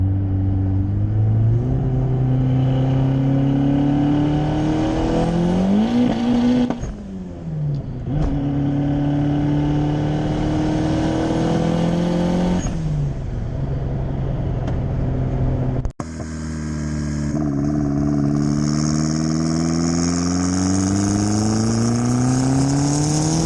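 A street-tuned turbocharged Honda Civic, built with an eBay turbo kit, revs loudly and repeatedly, its engine note climbing and falling through several close, sustained pulls with brief drops between them.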